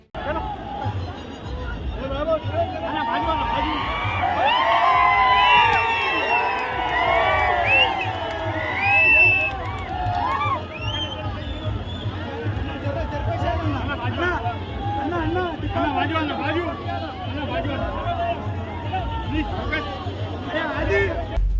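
A large, dense crowd at a shobha yatra procession fills the air with continuous loud babble, shouts and cheers, with whistles and excited voices rising over a steady low rumble throughout.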